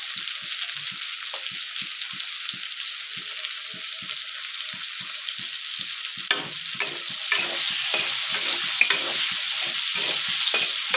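Chopped garlic, onion and green chili frying in oil in a pan, a loud continuous bright sizzle with rhythmic stirring strokes throughout, growing slightly louder toward the end.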